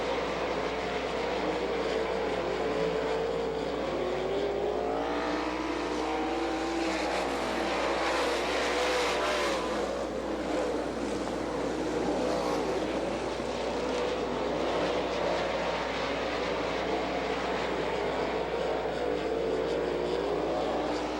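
Sprint race cars roar continuously around a dirt oval at Butler, Michigan, engines droning loud and steady with rising and falling pitch as the pack circles, with no break for the whole stretch.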